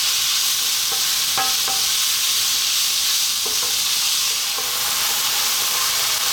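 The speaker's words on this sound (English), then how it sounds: "I need to sort of get this meat really nicely cooked." Ground beef or lamb sizzles steadily in a pan over medium heat for Iraqi carrot rice, a constant broadband frying hiss with a few scattered scraping stirs.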